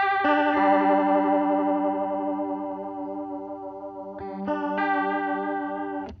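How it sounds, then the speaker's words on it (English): A sustained electric guitar chord with a fast wobbling vibrato effect, loud and steady, restruck near the end. "vibrato is more like chorus with less of the depth, but more of the rate ramped up"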